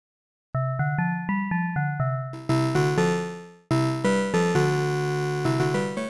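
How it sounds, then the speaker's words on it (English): Ableton Live Wavetable synth, oscillator 2 on a harmonic-series wavetable, plays a clean run of discrete notes, first short plucked-like tones, then a richer sustained chord that decays and re-strikes, alone with no voices. "If we were to hear just Oscillator 2, it would sound like this."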